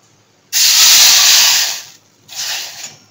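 Water streaming into a cooking pot for Maggi noodles: a steady close hiss for about a second and a half, a brief pause, then a shorter second pour.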